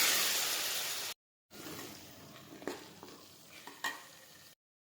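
Boiled chickpeas fry in a pan with chole masala, a soft sizzle broken by a brief silence, then stirred with a few distinct scrapes and taps of the spoon against the pan.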